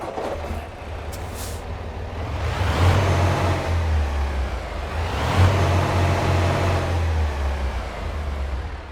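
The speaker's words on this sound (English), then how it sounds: "let's go ahead and get the Cascadia started up and get on the road" Freightliner Cascadia truck engine in American Truck Simulator, opening with a short air hiss and then a deep, loud diesel rumble that swells twice as the engine turns over and revs, settling into a steady idle.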